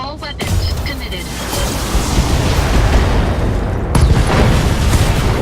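A Battletech mech unloads every weapon at once, a loud sustained roar of blasts and booms that opens with sharp reports, fills the whole stretch, and swells again with a fresh burst near the end.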